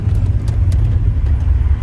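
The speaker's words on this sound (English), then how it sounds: "listen to the brakes. That's the ABS turning on." ABS pulsing on a 2000 Chevrolet Blazer ZR2 braking on gravel: a steady, loud low rumble with a rapid, rough stutter running through it, with no voices.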